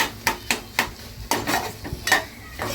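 Potato bhaji being stirred in a pan during home cooking, with repeated scraping strokes against the metal and a faint sizzle, close and fairly loud, no talking.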